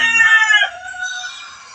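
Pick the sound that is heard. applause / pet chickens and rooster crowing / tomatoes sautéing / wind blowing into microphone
pet chickens and rooster crowing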